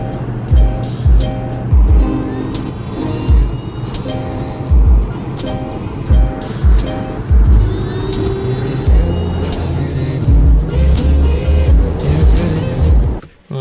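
Inside a car on the move, a steady low road and engine rumble with faint periodic thumps, heard up close with no talking.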